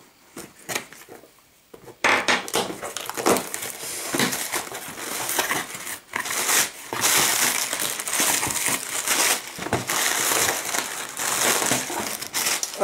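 Unwrapping a well-packed parcel from the hobby shop Passion 132: close, continuous crinkling and crushing of packaging material with rustles and small knocks. It starts with a brief quieter stretch, then stays loud and busy to the end.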